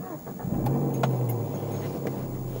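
A Peugeot 206 RC fitted with bucket seats, its engine revving while driving on a road, a steady mid-pitched engine tone rising in pitch then holding, moderately loud inside the cabin, no talk.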